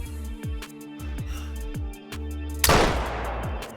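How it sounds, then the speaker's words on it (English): A single loud hunting rifle shot in theHunter: Call of the Wild cracks sharply and rolls away in a long echoing tail, following a run of rhythmic thumping game sounds, no talk. "So now let's make sure the second shot doesn't end up being a disgrace."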